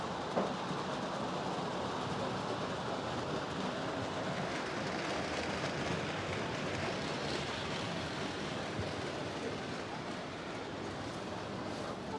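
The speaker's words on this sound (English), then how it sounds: "I'm going to attempt to show you guys this train set." A Christmas toy train set runs on its track in a busy Manhattan setting, giving a steady rolling, rattling rumble that stays constant and fairly close throughout, with no talk over it.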